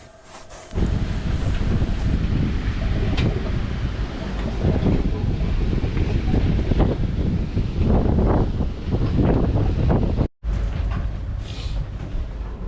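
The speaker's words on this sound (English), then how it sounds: "This is probably the most wind until the end of the trip that we had." Strong wind buffets a sailing yacht at sea, a steady loud roar with gusty swells and water rushing past the hull, running almost continuously with one brief dropout near the end.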